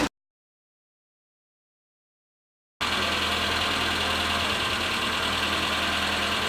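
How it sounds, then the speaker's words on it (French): A car engine idling in the street, heard after about three seconds of silence as a steady, close mechanical hum and rumble that holds evenly to the end. "Je peux savoir pourquoi vous laissez tourner le moteur au ralenti?"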